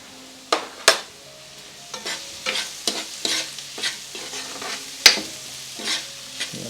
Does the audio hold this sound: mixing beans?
yes